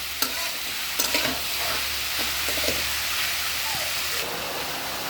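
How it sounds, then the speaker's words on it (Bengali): Chopped vegetables frying lightly in a pan for a small-fish curry, with a constant loud hiss and sizzle and a few sharp stirring scrapes near the start. "সবজিগুলাকে হালকা করে ভেজে নিচ্ছি।"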